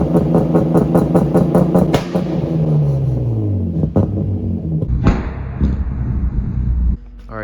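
A BMW E36 engine revs against a 2-step launch-control rev limiter set at 2500 rpm, giving a rapid stuttering bounce off the limiter, then a falling rev, sharp blips and a quick drop back to idle.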